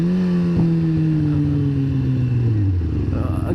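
A sport bike's engine runs loud and close while riding, its steady note gliding slowly downward as the revs ease off, with a brief clatter early on and no talk.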